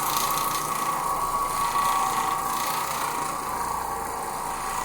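An Oreck Orbiter floor machine works slowly over carpet on a heavy cleaning job, a steady loud motor drone with a constant whine and rough scrubbing texture, continuous and close throughout.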